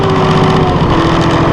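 A Massey Ferguson 2604H two-wheel-drive utility tractor with a Simpson diesel engine runs steadily near the listener, a loud continuous drone with a constant tonal hum and no speech.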